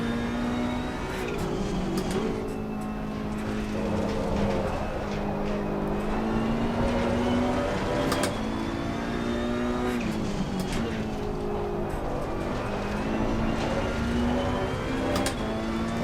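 Race car engine in Assetto Corsa Competizione, an Italian car from the Challengers Pack: a steady high-revving engine drone rising and falling through gear shifts, with occasional sharp upshift pops, loud and close throughout.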